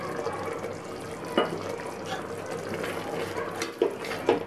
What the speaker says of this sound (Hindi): उसी कटोरी से मैं ये पानी डाल दूंगी।